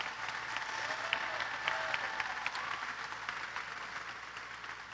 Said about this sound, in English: let's give the National Honor Society a round of applause